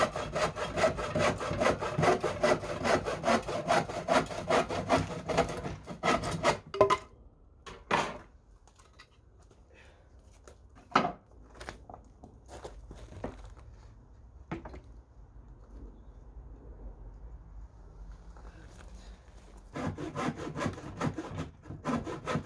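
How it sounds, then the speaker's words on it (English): A hand saw cuts wooden planks in quick, rhythmic rasping strokes, then pauses with scattered knocks and scrapes before the sawing resumes near the end, close and fairly quiet. "this is me cutting down a couple of planks to form the base to be the bottom part of the legs"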